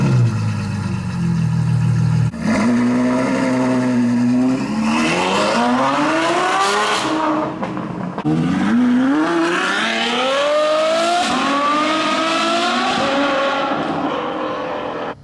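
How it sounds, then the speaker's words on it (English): A loud Ferrari F12 with a Novitec exhaust roars and revs upward through several gears, the pitch climbing and dropping between shifts, with a harsh, crackling exhaust note. "Awesome Ferrari F12 acceleration. This Ferrari F12 has a NOVITEC exhaust and sounds awesome."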